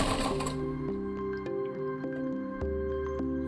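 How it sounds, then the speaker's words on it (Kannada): A sewing machine runs steadily, stitching a pocket onto a child's pant, with a rhythmic mechanical hum and short shifts in pitch as the stitching pauses and resumes close by. "ಫಸ್ಟ್ ಈ ಥರ ಫೋಲ್ಡ್ ಮಾಡಿಕೊಂಡು ಸ್ಟಿಚ್ ಮಾಡ್ಕೊತೀನಿ."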